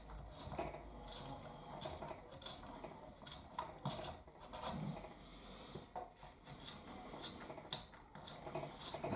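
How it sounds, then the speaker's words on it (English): A 9.5 drill bit twisted by hand to ream out a hole in the wood body of a Fender Player Series Stratocaster, giving steady close-up rasping and scraping with irregular ratchety clicks throughout. "And maybe this will just kind of ream out just a little bit."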